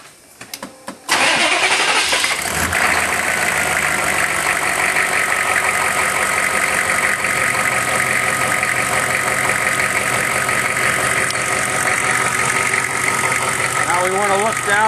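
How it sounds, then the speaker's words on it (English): A 1990s Chevy truck's GM 6.5 diesel cranks briefly and fires, then settles into a loud, steady diesel idle with a rough clattering rumble that holds close and constant. "We're going to fire the truck up and make sure we don't have any leaks."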